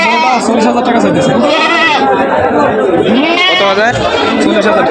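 Goats bleating loudly at a busy livestock market, repeated wavering calls overlapping with close, continuous conversation and crowd chatter throughout.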